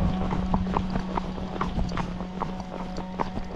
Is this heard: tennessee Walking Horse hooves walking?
yes